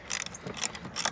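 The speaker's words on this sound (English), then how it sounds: "now I can get my ratchet in there because the carb's not in the way" A ratchet wrench tightening bolts on a Yamaha Big Bear 350 ATV gives quick, quiet metallic clicking in several short bursts with brief pauses between them, close by, with no talk.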